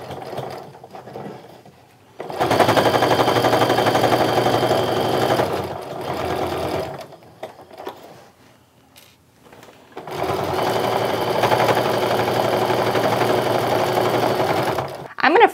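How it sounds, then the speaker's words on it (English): Sewing machine stitching the seams of a fabric frame wallet, two long steady whirring runs with a short pause and quieter gaps between, close and loud, with no talk over the stitching. "I am going to reinforce my stitches at the front and end of those seams"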